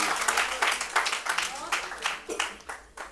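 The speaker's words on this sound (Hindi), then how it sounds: "जोरदार तालियां" An audience at a poetry gathering in the Delhi Legislative Assembly breaks into continuous clapping. The applause is close and fairly loud, with surging bursts that carry through to the end.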